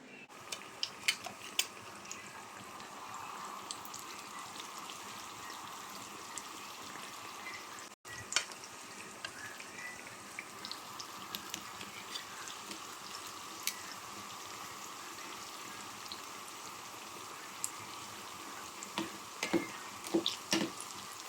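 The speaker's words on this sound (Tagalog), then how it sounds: "ipiprito na natin siya" Turon, banana spring rolls coated in brown sugar, frying in a pan with steady close crackling sizzle and scattered sharper pops and oil spits throughout, with no talk.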